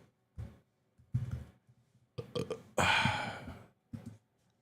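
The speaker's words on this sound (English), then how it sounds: "I don't think I've ever burped on my show before" A man on a live show lets out a long, loud, throaty burp near the microphone, set between short bursts of other mouth and breath sounds.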